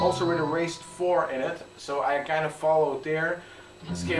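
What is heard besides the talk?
No everyday noises stand out.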